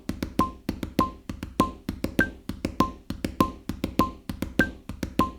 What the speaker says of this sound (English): an 8th note and two 16th notes would be this